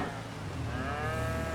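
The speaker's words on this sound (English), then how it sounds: "Don't want any cows wandering around the yard." Cattle moo on a farm yard near an open barn after rain, a low drawn-out call rising over a steady background rumble of machinery.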